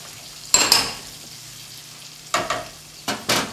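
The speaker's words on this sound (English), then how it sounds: "We're gonna go ahead and add our crawfish tails and move those around in the onion," Crawfish tails hiss in a pan of onion, garlic and shallot for a Cajun dinner, with bursts of sizzle and stirring scrapes around a quieter stretch.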